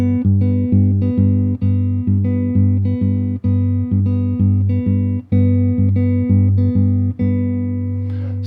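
A piano plays a 4-against-3 polyrhythm, a low G repeating in fours against a high B in threes, with bright evenly spaced struck notes ringing and decaying under each attack.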